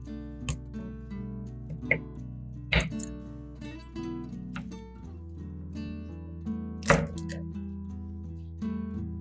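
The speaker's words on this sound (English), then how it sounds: "simply cut off the hard root end of each garlic clove" A knife trims the hard root ends off garlic cloves on a cutting board, with several sharp, separate chopping taps spaced irregularly over a soft background of music.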